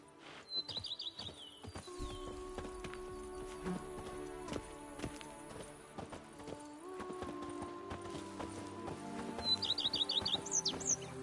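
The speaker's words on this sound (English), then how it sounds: "Even a horse drops if you ride it at a constant gallop." A horse in the video game The Witcher 3 in the Toussaint region clip-clops along at a steady rhythmic pace, with birds chirping in the background and a musical score underneath.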